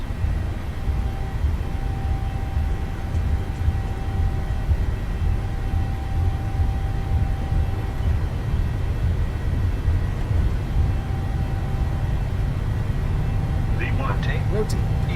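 Engines of a Ryanair airliner roar at takeoff power during the takeoff roll in Microsoft Flight Simulator, a steady deep rumble with a faint whine running throughout, with talking over it.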